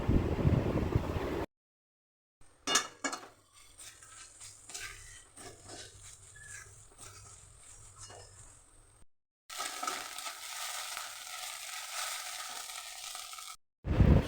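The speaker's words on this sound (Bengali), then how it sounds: "সোয়াবিনটা ভেজে নেব তেল গরম হয়ে গেছে" Steady oil sizzle from soybean chunks frying in a pan, with brief silent gaps and a louder hissing burst near the end.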